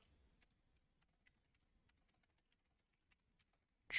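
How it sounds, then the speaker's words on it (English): Typing on an eMachines computer keyboard produces soft, quick, irregular key clicks, faint and close, continuing for a few seconds before a louder burst at the end. "I'm using my E-Machines keyboard for this."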